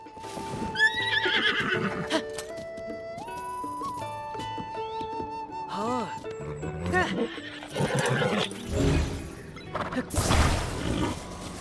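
A horse whinnies and neighs amid layered game-style effects and music from Zelda: Tears of the Kingdom, with hoof clip-clops and a loud crash near the end.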